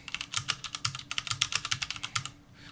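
Computer keyboard typed steadily in quick bursts of crisp clicks and clacks, close and fairly loud, tapering off into quiet at the end.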